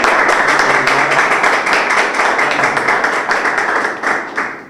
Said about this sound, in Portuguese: uma salva de palmas para os nossos convidados